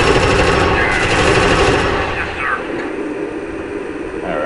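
An automated sentry gun in Alien Swarm rattles off a rapid, loud stream of fire, strongest at first and easing slightly toward the end.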